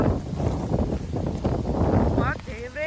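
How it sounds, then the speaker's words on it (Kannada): Strong wind rushes and buffets loudly against the microphone outdoors among swaying trees, with a constant roar under a voice speaking nearby. "ಗಾಳಿ ನೋಡ್ರಿಗ ಎಷ್ಟು ಬಿಟ್ಟದ"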